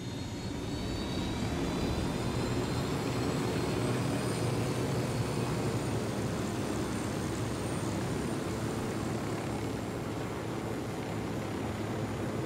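Aircraft engine roar from an airplane in the video game Ghost Recon Wildlands, a steady loud drone that holds for the whole stretch with no speech over it.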